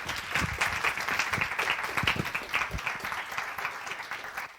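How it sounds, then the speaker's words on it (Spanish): An audience applauds steadily after a talk at a Spanish-language conference session, dense clapping filling the room at a fairly even level for several seconds before easing slightly at the end. "Un aplauso para ella."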